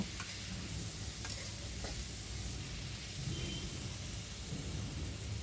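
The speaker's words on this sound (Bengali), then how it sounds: "এখন আমি নেড়ে চেড়ে সবজিগুলোকে একটু ভেজে নেব" Faint, constant sizzling of red amaranth stems and vegetables stir-frying in a pan, with occasional light scraping from stirring, heard alone at a low level.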